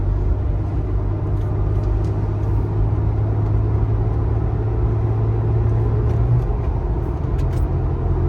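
Steady, loud low-pitched engine and road rumble from a 2014 Toyota FJ Cruiser cruising in fifth gear with a TRD short-throw shifter, heard from inside the cabin with no talking.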